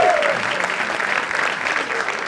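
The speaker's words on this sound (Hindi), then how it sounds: "एक बार जोरदार तालियां for him यार।" A studio audience at a comedy talent show applauds loudly and steadily for a contestant, a dense clatter of clapping filling the room from start to end.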